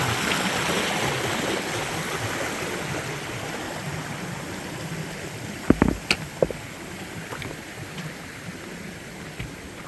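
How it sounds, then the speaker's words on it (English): A mountain stream rushes in a steady, broad wash of running water close by on a forest trail, with a few brief knocks near the middle. "stream coming down the mountain"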